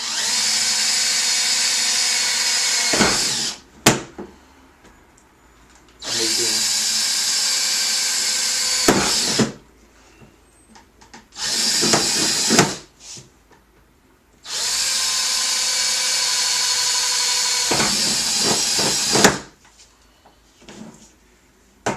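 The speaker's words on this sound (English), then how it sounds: "we'll start by drilling some holes in the lid" A power drill whirs in four separate bursts, each a few seconds long, drilling holes in a plastic lid, with short pauses and small clicks and clatter between them.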